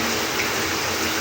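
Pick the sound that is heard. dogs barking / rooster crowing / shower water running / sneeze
shower water running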